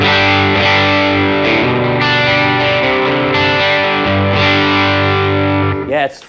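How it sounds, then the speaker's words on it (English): An electric guitar runs through a Keeley Noble Screamer overdrive pedal set to hybrid mode, playing loud, gritty distorted chords and riffs in steady phrases. Notes shift every half second or so before a final squeal and cutoff. "Here's the Noble Screamer hybrid mode."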